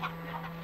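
Hens clucking inside a hen house, a short burst of near fowl calls with a constant low hum underneath.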